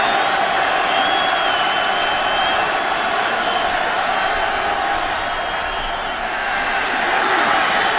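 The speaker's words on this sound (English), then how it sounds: "Crowd is back in this one." Stadium crowd roar at a 2011 NFL game, Oakland Raiders at Buffalo Bills, swelling in a steady, distant wash of noise while a play-by-play commentator talks over it.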